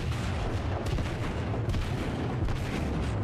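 Heavy naval gunfire from a battleship in World of Warships, an IJN Kongo firing ranging salvos at an enemy ship, forms a dense continuous rumble of booming shots and explosions with no talk.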